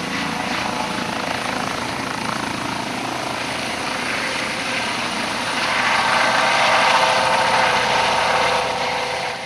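A helicopter landing on a city stadium where training was under way gives a steady, loud rotor and engine roar throughout. It swells slightly toward the end.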